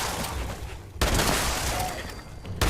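In Fallout 76, an explosive shotgun fires at ghouls, giving heavy blasts with explosive bursts. A sharp onset cuts in partway through and a second blast follows near the end, loud and close with no talk.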